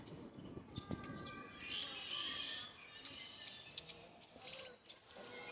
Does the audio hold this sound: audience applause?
no